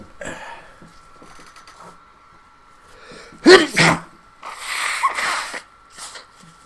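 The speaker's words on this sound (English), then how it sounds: "I gotta sneeze." One loud sneeze bursts out near the middle, followed by a sniff and a breathy exhale, with a faint steady hum and quiet background sounds.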